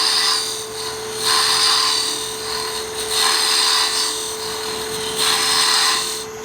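A wood lathe spins steadily while a cutting tool arcs across a hollowed Christmas ornament, giving a loud, continuous whine with a broad hissing scrape that swells and fades in repeated passes, close by and without talk.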